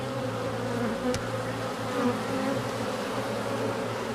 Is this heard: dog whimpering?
no